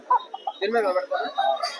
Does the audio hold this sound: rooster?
yes